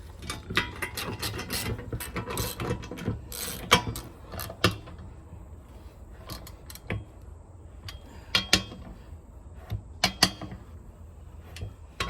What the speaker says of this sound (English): line your holes up, and I guess I'll use the new bolt. All right, tighten them back down.